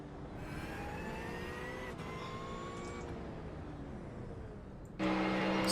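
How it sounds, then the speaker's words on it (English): Onboard view of the number 89 Porsche GT3 race car at Suzuka in a racing sim, its engine droning and rising through the revs with gear changes, then a sudden louder, harsher roar near the end. "now we're riding on board with Matthew Macy and his number 89 Porsche"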